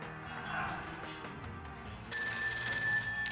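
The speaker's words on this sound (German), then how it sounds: "Ah, Telefon klingelt." An electronic telephone ringtone in the video game Serial Cleaner starts partway through, loud and steady over a busy game soundtrack.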